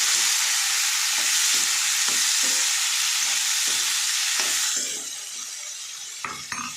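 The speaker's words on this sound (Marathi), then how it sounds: "आता गवार चांगलं परतवून घ्यायचं" Cluster beans (gavar) sautéed in a pan, a loud continuous close sizzle with rhythmic scraping strokes of a spatula, the frying hiss dropping somewhat in the last couple of seconds.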